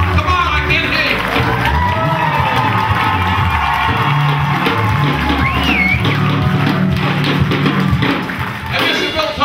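Big outdoor crowd at a Lowell–Nairobi sister-city event roaring, shouting and whooping continuously at high volume, with rising whoops poking through the dense noise.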